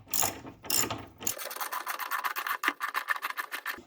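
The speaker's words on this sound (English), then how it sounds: "So I always use a socket set, so I have as much control as possible over the bolt" A socket-set ratchet tightens a bolt into a masonry wall while fixing a staircase: two short scraping turns, then a rapid, close run of clicking pawl strokes in quick regular rhythm.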